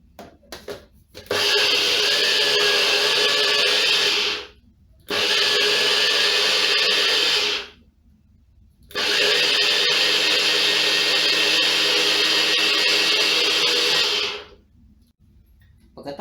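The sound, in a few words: blender grinding rice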